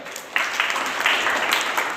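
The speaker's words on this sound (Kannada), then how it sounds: "ಬರ್ಲಿಕ್ಕೆ ಒಂದು ಚಪ್ಪಾಳೆ." Audience applause at a talk on life values for children, a dense burst of clapping that starts sharply and holds steady at moderate loudness for about two seconds, with no voices over it.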